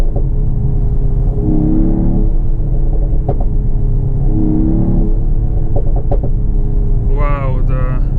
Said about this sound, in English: Wow, the exhaust crackles are great.